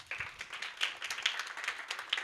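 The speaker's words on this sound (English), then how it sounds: "I'd like you to welcome, with a round of applause, Dr. Hwabaone Rangkhonyane Pono." An audience at a pageantry seminar in Botswana claps to welcome a speaker, scattered light applause heard faintly from a distance in a quiet room.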